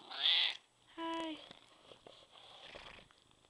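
A cat gives a couple of short, high meows close by, followed by soft rustling and faint purring-like murmurs.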